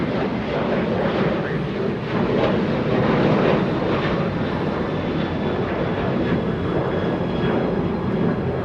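An airliner touches down at Los Angeles International Airport near the Bat Bridge, a steady loud broadband roar of jet engines and rushing air holding evenly throughout with no voices.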